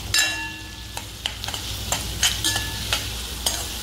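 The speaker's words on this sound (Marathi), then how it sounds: "आणि कांदा, मिरची आणि कढीपत्ता हा चांगला आपण गोल्डन ब्राऊन कलर होईपर्यंत भाजून घ्यायचा आहे।" Onion, green chilli and curry leaves fry toward golden brown in a pan for Malvani mushi sukka, a steady close sizzle broken by repeated rhythmic scrapes of a spatula stirring.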